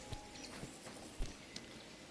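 Horse hooves clip-clopping in the video game Kingdom Come Deliverance II, a few spaced, muffled thuds over a soft steady ambient bed, faint and a little distant, with no talking.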